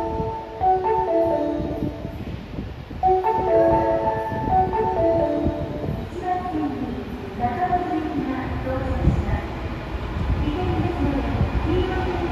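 An Osaka Metro Midosuji Line train, set 21610F, pulls into an underground platform bound for Senri-Chuo, its motors and wheels rumbling and whining steadily, with a platform announcement voice running over the arrival throughout.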